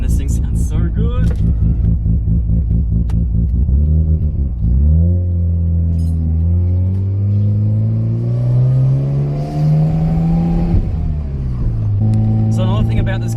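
A Mazda FD RX7 RS rotary engine revs loudly and close, pitch climbing smoothly over several seconds before dropping back, with a short burst of blips at the start and end and someone talking over it.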